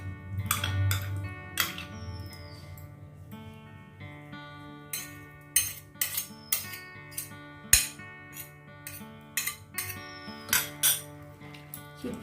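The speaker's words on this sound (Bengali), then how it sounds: "ক্ষীরটাকে আগে ভালো করে মিশিয়ে নিতে হবে।" A spoon mixes kheer into malpua batter in a bowl, making a steady run of light metallic clinks and taps against the bowl's sides, some louder than others, over a low background hum.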